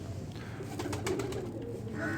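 Pigeons in a loft coo softly in a low, continuous murmur, several birds overlapping at a distance with faint chirps above.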